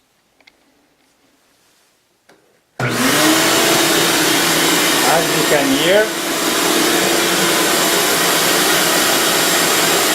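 A brief voice and a few faint clicks come first, then a Ridgid WD1851 shop vacuum starts up abruptly and runs with a loud, steady roar that continues to the end.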